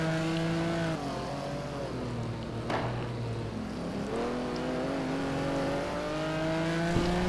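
Ferrari 550 GT1 race car in a racing video game, heard from on board at Daytona Road Course: a steady, loud engine drone with rising and falling harmonic pitch through gear changes, no talk.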